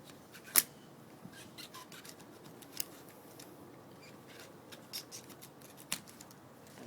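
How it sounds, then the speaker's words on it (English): A knife slicing a hole in a boat cover for installing a vent, heard as quiet, sporadic scraping and snipping cuts with a few sharper clicks, close and alone with no talk. "then I'm going to take the knife and cut around it"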